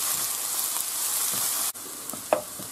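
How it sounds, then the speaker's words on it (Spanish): Meatballs with mushrooms sizzle and fry steadily in a hot pan, a dense, even crackle close up with a few stirring scrapes near the end and no talking. "Tiene que rehogarse bien."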